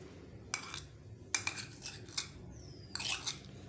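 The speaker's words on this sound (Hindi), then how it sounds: "और इसको अच्छी तरह से मिक्स कर लेंगे।" A spoon works mayonnaise into a cooled chicken filling in a bowl. A few separate bursts of metallic scraping and clinking sound close and fairly quiet, with short pauses between them.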